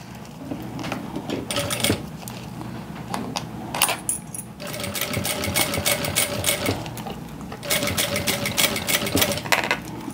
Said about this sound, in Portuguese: Vou passar essa costurinha de segurança também